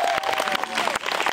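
An audience at a live fairy-tale stage show in Rastede applauds and cheers in a dense, continuous wash of clapping with crowd voices mixed in throughout.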